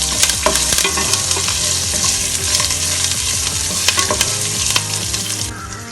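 Curry leaves, dried red chillies and asafoetida fry in hot oil for coconut rice. The close sizzle is loud and crackling, with stirring scrapes and sharp pops, and it eases slightly near the end.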